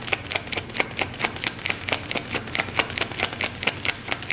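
Tarot cards being shuffled by hand, a quick irregular run of crisp riffling taps and soft slaps repeating steadily, close and fairly quiet with no talk.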